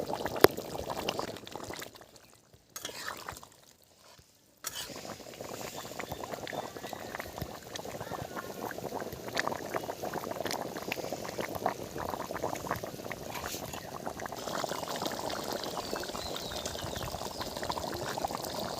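Home-style country chicken curry with freshly ground spice paste bubbles and boils steadily in a pot on the stove, a continuous close, busy bubbling texture broken by a brief quiet gap near the start, with no talk.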